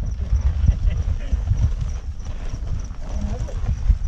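A mare's hooves clip-clop in steady, close, rhythmic beats around new stables, continuing throughout beneath people talking.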